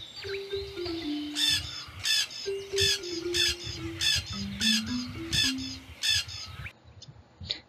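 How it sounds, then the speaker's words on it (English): A Toco toucan in a jungle story squawks again and again, giving about eight harsh, rasping calls in a regular rhythm over a faint low tone. "he'll squawk and squawk to warn everyone else in the jungle"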